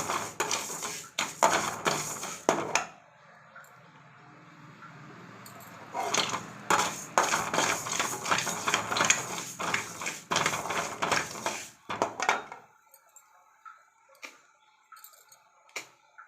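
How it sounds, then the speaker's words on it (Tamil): Sprouted green gram dry-roasting in a kadai gives bursts of dry rattling and scraping as the grains are stirred against the metal pan, with quieter gaps and a few faint clinks near the end. "நம்ம ஒரு கடாய் வச்சுக்குவோம் பாருங்கள் இதை நல்லா நம்ம பொரியிற அளவுக்கு வறுத்தெடுத்துக்கலாம்"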